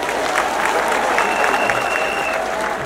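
Sustained applause from an audience at an event, a steady dense clapping that fills the whole stretch at even loudness, with faint crowd voices mixed in.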